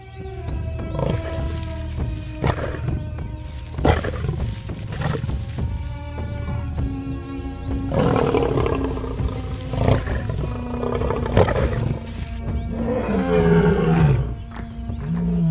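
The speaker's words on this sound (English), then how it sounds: "An adult male's roar is among the most powerful sounds on the African plains." An adult male lion roars on the African plains, a series of deep, powerful, loud close roars rising and falling in repeated bouts, with low grunting pulses between them.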